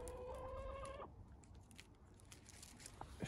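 Backyard chickens cluck close by in a garden being planted with greywater-fed shrubs; a short run of tonal clucks fills the first second, then only quiet outdoor ambience with faint rustles remains.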